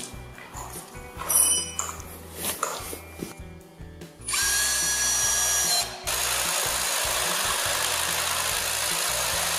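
A power drill drives screws to fix metal brackets while assembling a flat-roof Tendille garden shed; a loud, steady whir runs alone from about four seconds to the end after quieter bumps and handling.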